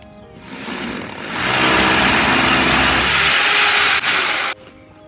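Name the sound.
power drill boring holes into insulated concrete blocks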